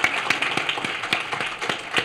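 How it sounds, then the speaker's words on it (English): Scattered, uneven claps from a small audience thanking the speakers at a fireside-chat panel, a handful of distinct hand strikes spread irregularly with no talk over them. "maybe a round of applause for our speakers."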